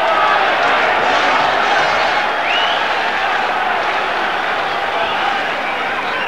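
A packed London boxing arena crowd before Honeyghan's title defense, a steady loud roar of cheering and murmuring voices with scattered claps, continuous throughout.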